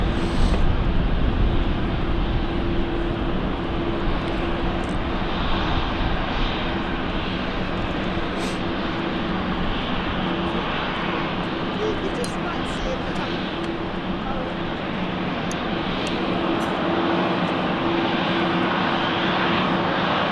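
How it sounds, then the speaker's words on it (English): A Heathrow arrival airliner passing overhead near London City Airport, a steady broad engine rumble with a faint tonal hum that stays constant throughout, with someone talking over it. "get some Heathrow arrivals heading over us."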